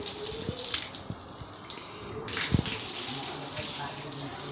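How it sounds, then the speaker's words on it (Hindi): Water poured onto garden plants during watering, a steady gush under a faint speaking voice, with a few soft splashes. "पेड़ पौधे को पानी दिया जा रहा है"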